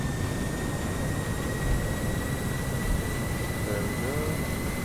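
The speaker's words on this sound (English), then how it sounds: "We're landing down. Full thrust reversers." Thrust reversers on a DC-10 jet roar after landing in the Prepar3D flight simulator, a steady, loud broadband jet rush with a faint engine whine that holds constant throughout.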